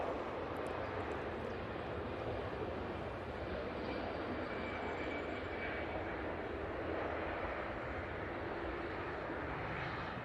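Easyjet airliner jet engines at Manchester Airport, a steady broadband roar heard from a distance that holds at an even level throughout with no breaks.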